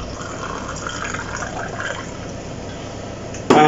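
A glass of wine poured in a home kitchen, a gentle gurgling liquid stream running steadily at close range, cut off by a sudden louder clunk at the very end.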